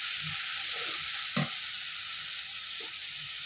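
Chopped tomato frying with chicken liver in a pan gives a steady close sizzle, with one brief scraping stir near the middle and no voices.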